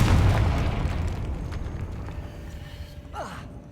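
A Confringo spell explosion in Hogwarts Legacy gameplay: a loud, deep boom at the start that decays over a few seconds, followed by faint game sounds.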